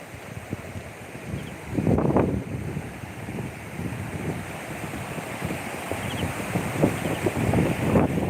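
A river flows outdoors while strong wind buffets the microphone, giving a rushing, gusty wash with uneven swells and thumps, fairly loud and continuous.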